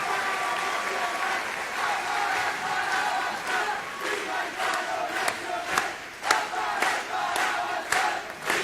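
An audience at a public education event breaks into sustained applause, a dense clatter of clapping with shouts mixed in that grows more scattered toward the end.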